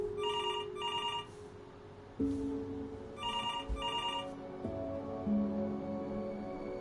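A telephone rings in the video game Before Your Eyes, with two pairs of bright electronic trill bursts separated by a pause, over a soft sustained musical drone.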